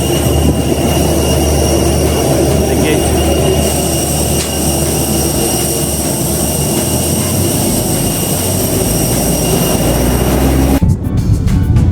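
Airplane jet engine near an airport, a loud continuous roar holding steady for about eleven seconds before cutting off abruptly into a brief noisy rustle.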